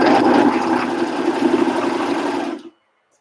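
Serger running at steady speed as it stitches knit fabric for flared pants, a close, loud continuous hum and whir that stops abruptly after a couple of seconds.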